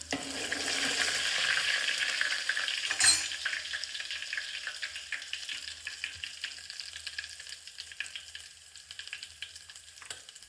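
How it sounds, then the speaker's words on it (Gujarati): Black pepper and dried garlic sizzle in hot oil as a tempering for a green chickpea curry, crackling strongly at first, then fading into a quieter, sputtering fry with a few stirring taps. "આપણે એમાં મરી અને સૂકું લસણ જે ભીણું કર્યું હતું"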